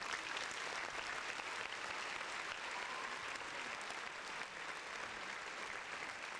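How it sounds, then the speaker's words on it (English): Steady applause from a podcast audience, sustained and fairly even for several seconds with no talking over it. "Round of applause."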